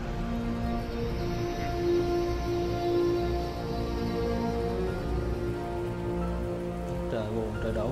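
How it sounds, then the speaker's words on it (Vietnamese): Steady rain hisses throughout the survival game ARK Survival Ascended, a dense, even wash of falling drops at close range, with a faint shift near the end. "trời đổ mưa luôn các bạn ơi. Đổ mưa luôn."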